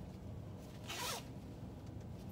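A zipper on a brand-new crossbody purse with a flap, one quick pull heard close and clear in a quiet room.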